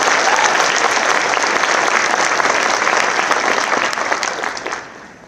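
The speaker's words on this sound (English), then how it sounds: "How about another round of applause for all the people who helped you get here today?" Sustained, loud applause from a large crowd fills a University of Wisconsin Law School hooding ceremony, many hands clapping in an even, dense roar that tapers off over the last second.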